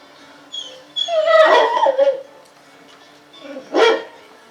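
A shelter dog in an isolation area whimpers in a high, thin whine, then lets out a short bark after a pause, close by and loud with no talk over it.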